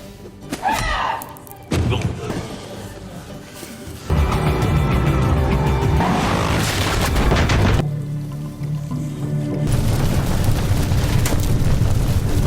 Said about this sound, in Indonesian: dia mengalami kecelakaan dan mobilnya meledak